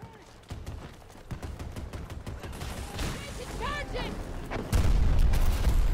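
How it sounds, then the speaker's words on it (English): Grenade blast and rapid gunfire in the shooter Battlefield 2042, dense crackling shots building to a heavy, loud booming explosion near the end, with jets and battle noise mixed throughout. "that guy's just throwing a grenade"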